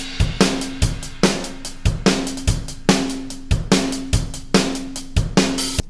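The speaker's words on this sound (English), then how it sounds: "that's when you find the acoustic drums" A song loop with acoustic drums layered over a repeating pattern, steady kicks and snare hits in a driving rhythm alongside sustained tonal parts, loud and upfront with no voices.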